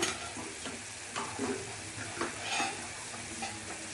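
Ghee goes into a hot pan of jackfruit curry with cream, crackling in a steady low sizzle while a spoon scrapes and stirs in a few short strokes.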